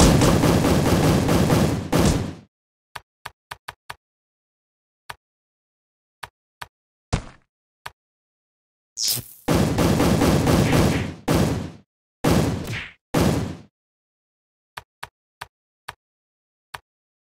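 Gunfire from the mobile game Kick The Buddy: a long loud burst of automatic shooting, then scattered single shots and several more sustained bursts, with sharp isolated pops trailing off at the end, no talking.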